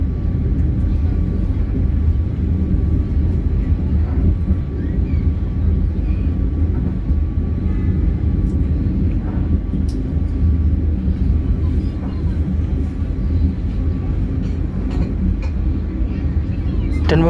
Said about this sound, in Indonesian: Dan pemirsa, ini kereta sudah mulai melambat, itu artinya kita sudah dekat dengan stasiun Tandes